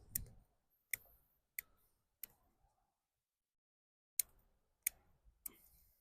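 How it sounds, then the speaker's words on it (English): Pruning cuts through a bonsai root ball make sharp, isolated snips: about seven crisp clicks spaced unevenly over several seconds, close and fairly quiet, with near-silence between them and a brief rustle at the start. "Keep on cutting until it's severed."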